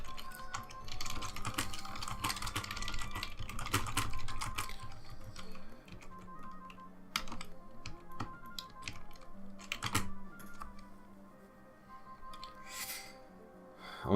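Computer keyboard typing during a typing lesson, with rapid, irregular key clicks in dense bursts at first, then sparser taps and scattered small clicks and tones later, close and moderately quiet.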